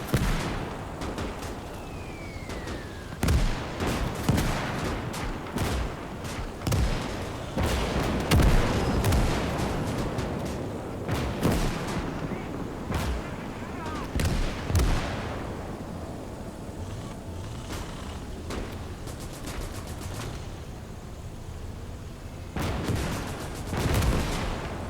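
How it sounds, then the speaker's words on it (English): Mortar rounds in Gates of Hell, a WWII real-time strategy game, thump and burst repeatedly amid scattered gunfire and explosions, loud and irregular, some blasts near and others farther off. "Yeah, no, it's definitely a mortar coming out of there."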